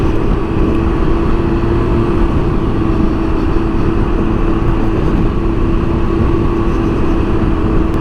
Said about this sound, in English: riding these little Rykers on these bumpy roads like this is not exactly what you'd call a relaxing ride